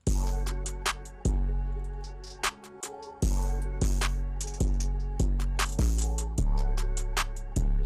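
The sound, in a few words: open hi-hat with 808, distorted clipping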